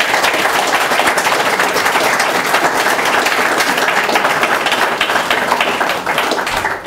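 A crowd at a large interfaith Iftar gathering gives a final loud round of applause for the speakers, dense, sustained clapping close and continuous throughout, easing only slightly at the end.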